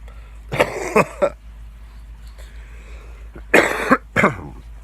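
Two sets of harsh coughs with throat clearing, close to the microphone, separated by a quiet pause.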